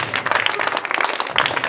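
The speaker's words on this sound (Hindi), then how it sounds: "ताली बजा दो" Students clap together in a classroom as a cheer for a classmate, a dense, steady patter of many hands lasting the whole moment, fairly close and lively, with no talk over it.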